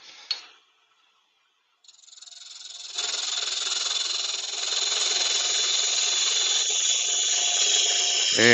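A wood lathe spins up and a tool cuts a tenon on a yew blank, giving a steady, bright hissing whir after a short pause that continues evenly to the end.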